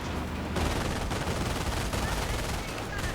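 Machine gun fire in a strategy video game, with an armored car attacking, sounds as a continuous rattle of rapid shots and battle noise that stays loud throughout.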